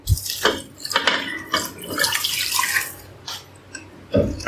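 Water gushes and splashes into a metal pressure cooker holding mutton pulao ingredients, with short clanks of the vessel at the start and near the end.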